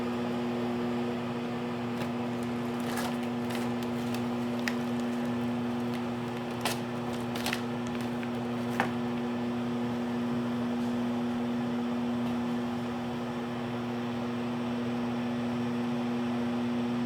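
A microwave oven running while cooking corned beef hash under a lid: a steady, unbroken electrical hum with a fan whir, broken only by a few faint clicks and taps.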